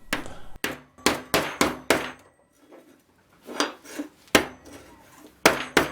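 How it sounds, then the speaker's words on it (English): A mallet flattens a length of annealed 15mm copper pipe in about a dozen loud, close, dull blows, struck in two quick bursts with a short pause between them. "I anneal a piece of pipe and then flatten it with a mallet."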